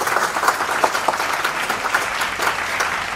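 Audience applause at a 2019 industrial complex convergence event in Dalseong, steady dense clapping from a crowd throughout, with no one speaking over it.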